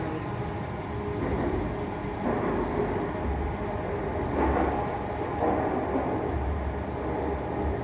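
A ScotRail Class 385 electric train, unit 385099, hums steadily from its traction motors near Edinburgh Waverley, with a continuous rolling rumble and swelling, fading motor tones throughout and no talking.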